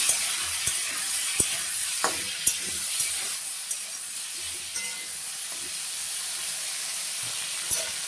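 Raw banana, potato and long beans frying in a pan with a dried chilli, a continuous bright sizzle with intermittent spatula knocks and scrapes as they are stirred, close by, with no talk.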